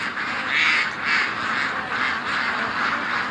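A flock of worked-up ducks at a homestead quacks continuously, a loud, overlapping chorus that swells and dips in rhythmic waves, close by with no talking.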